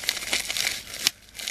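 Bubble wrap packing around a phone screen protector crinkles close by, with quick irregular crackles and rustles in short bursts and a brief pause near the end.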